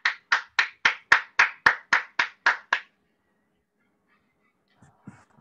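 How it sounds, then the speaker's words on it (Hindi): Ten evenly spaced, sharp hand claps in a quick steady rhythm, close and loud, welcoming a guest at a wellness-industry network marketing talk, followed by near silence and a couple of faint rustles. "मैं तालियों के साथ में मैं वेलकम आपका"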